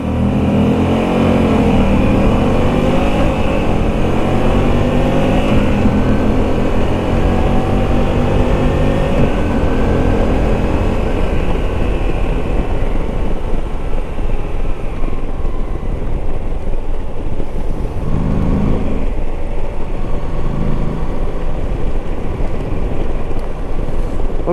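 A Moto Guzzi V85 TT motorcycle in sport mode accelerates hard from 0 to 100 km/h on a cold, rainy road, its engine loud and close, rising steadily through gears with a continuous drone and wind noise.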